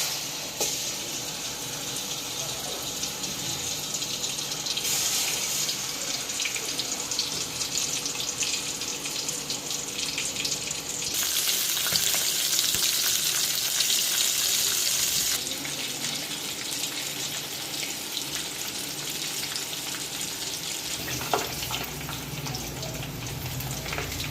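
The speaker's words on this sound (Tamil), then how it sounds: "எண்ணெய் காஞ்சிருச்சு. இப்போ சிக்கனை போட்டுக்கணும்." Marinated chicken pieces for chicken 65 frying in hot oil, a steady broad hiss and crackle running throughout, growing louder and denser midway, with no voices.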